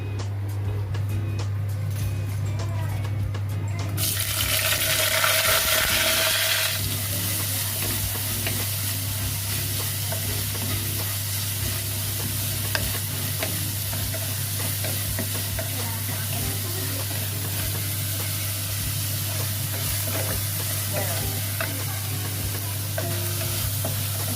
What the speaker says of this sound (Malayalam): ചട്ടിയിലേക്ക് വറ്റൽമുളക്, കറിവേപ്പില, തക്കാളി, ഉള്ളി, പച്ചമുളക് ഇതെല്ലാം കൂടി ഇട്ടൊന്ന് വഴട്ടിയെടുക്കാം